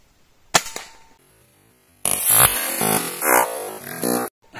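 A single sharp crack of a Hatsan HT135 gas-ram spring air rifle shot stands out against quiet, followed a moment later by a burst of loud, bright noise as a can is hit.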